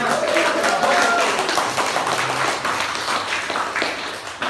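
An audience at an ethnic studies event cheers and applauds, a dense steady wash of clapping and crowd noise that fades slightly toward the end.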